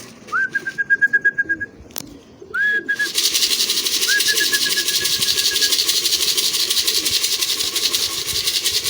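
Racing pigeons at a club training loft in Gumaca, Quezon, give a few rapid, trilling whistle-like calls in short bursts, then a steady broadband rush of wind or engine noise takes over while a faint call repeats beneath it.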